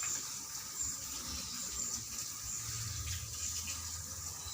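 A tap runs steadily as hands are rinsed under it during a handwashing demonstration, giving a continuous, even gush of water with no talking.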